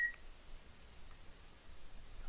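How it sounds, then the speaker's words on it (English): An African grey parrot gives a few faint, brief electronic-like beeps against a quiet room background. "That is my African gray parrot."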